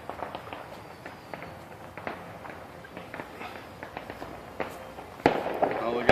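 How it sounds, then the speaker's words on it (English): Fireworks pop and crackle outdoors at night in scattered bursts, moderately distant, with footsteps and people talking nearby and a louder cluster near the end. "Oh, we got fireworks going on."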